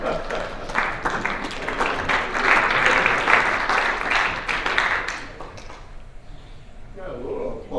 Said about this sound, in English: Got a little applause with that.